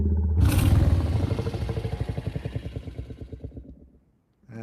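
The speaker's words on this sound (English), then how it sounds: "does that sound like a dragon to you? An idling dragon?" A designed idling sound for a fictional dragon begins with a sudden rough roar, then settles into a steady, throbbing purr of rhythmic low pulses that slowly fade, much like an idling engine.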